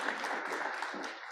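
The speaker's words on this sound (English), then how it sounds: "So round of applause for that" Applause from a meeting audience, a steady patter of many hands clapping at moderate volume for just over a second, with no voices standing out.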